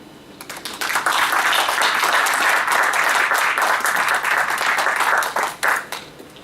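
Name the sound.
audience applause at end of panel session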